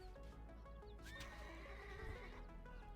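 Horses in a strategy video game give a loud whinny amid faint clip-clopping hooves and layered game music and effects, the neigh rising clearly above the busy background.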